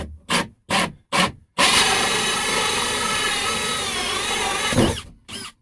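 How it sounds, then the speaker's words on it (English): A few short bursts of a power drill, then a long steady whine of the drill bit cutting a hole through boat material for about three seconds, ending with another short burst. "that's my pilot to put the drill bit in and finish the cut this way, making it a nice smooth hole"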